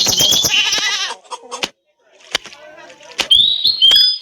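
A goat in a Meena video game bleats loudly and repeatedly in wavering, nasal cries, with a brief pause in the middle.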